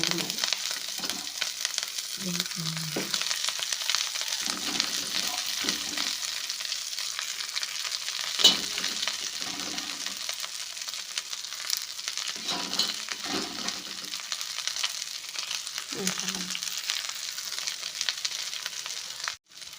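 Amaranth greens tossed into hot oil with browned garlic for a North Karnataka style palya, giving a loud, steady broadband sizzle throughout, with soft stirring knocks scattered underneath.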